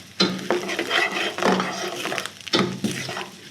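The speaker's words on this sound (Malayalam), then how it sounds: "ഇഞ്ചി ഇതൊക്കെ ഇട്ട് നല്ല രീതിക്കൊന്ന് സോട്ട് ചെയ്യാം" Ginger, garlic and curry leaves sautéing in a pan, with scraping stirs and clinks of a utensil over a steady low sizzle, loud bursts at the start and again near the end.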